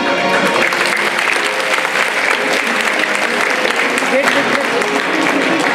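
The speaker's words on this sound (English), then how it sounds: "A huge round of applause, children, for the exemplary videos these children have created." Children and audience applaud at a school awards ceremony for a short film contest, a loud, sustained burst of many hands clapping, with faint voices mixed into the crowd noise.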